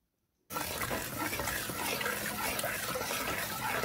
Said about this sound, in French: D'abord, on va verser de l'huile.